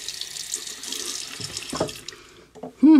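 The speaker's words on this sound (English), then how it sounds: "I always clean the blade first. So, rinsing it down with some hot water." Hot tap water runs over a straight razor blade at a sink, a steady close hiss of flowing water with brief splashes as the blade is rinsed, then a louder surge near the end.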